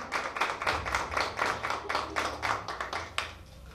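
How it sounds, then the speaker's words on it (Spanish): A church congregation claps in a steady, rhythmic beat during a service, the sharp claps evenly spaced and fairly close over a low musical hum, with no talking. "Te puedes soltar una ofrenda de aplausos."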